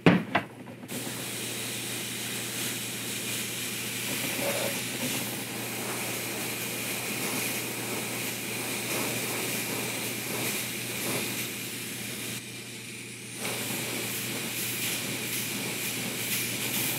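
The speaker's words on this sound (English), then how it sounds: "open up the airbrush a little bit" Airbrush spraying paint onto a 1/6 scale vinyl figure kit, a steady soft hiss of air running nearly continuously at close range, briefly dropping out at the start and near the end.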